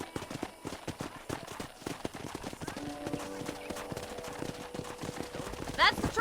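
Horse hooves clip-clop at a steady trot in the Red Dead Redemption video game, continuous rhythmic clatter under in-game speech and a faint tonal music line, moderately loud throughout.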